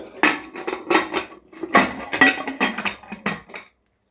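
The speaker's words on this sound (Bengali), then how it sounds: "এবার আমি ঢেকে দেব" Metal lid placed over a pot of four small potatoes set to boil, a burst of clattering, scraping metal knocks and rattles, close and fairly loud, ending abruptly in silence.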